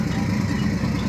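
Diesel engines on a fishing charter boat run with a loud, close, steady low rumble and throb, unbroken and without voices.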